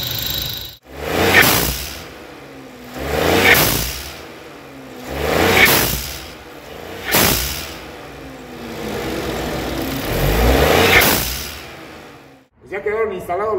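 A turbocharged pickup truck fitted with a blow-off valve revs repeatedly, with five surging engine bursts about two seconds apart, each ending in a sharp hiss of released pressure, loud and close.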